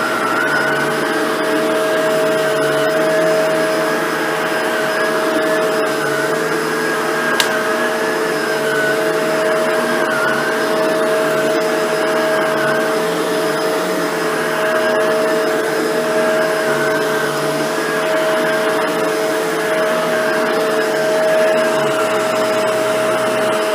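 A Shark Navigator Zero-M vacuum cleaner runs steadily on low pile carpet, a loud continuous motor whine with a constant tone, pushed back and forth without any talking.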